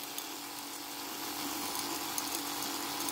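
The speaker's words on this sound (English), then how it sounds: "And when you hear that glass cracking sound, you're on the good way." A drill bit grinds a hole into a glass bottle, a continuous high, gritty whine that holds steady and grows slightly louder partway through, with faint scratchy ticks from the glass.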